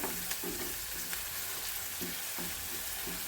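Tomato sautés in a hot pan for a sprouted moth bean usal, a continuous sizzle broken by a few rhythmic stirring scrapes, close and moderately loud, with no one talking.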